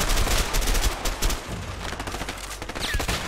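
Video game gunfire: a dense, loud fusillade of rapid shots crackling continuously for a few seconds, close and with no talk.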